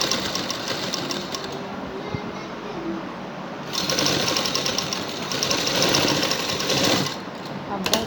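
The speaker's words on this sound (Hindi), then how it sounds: "हम बिल्कुल साथ साथ सिलाई लगाएंगे।" Fast, rattling chatter of a sewing machine stitching a folded neckline on a garment, running in bursts that swell louder and pause, close and clear with a person talking between runs.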